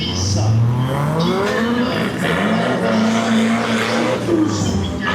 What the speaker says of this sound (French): On aura une magnifique 4 roues motrices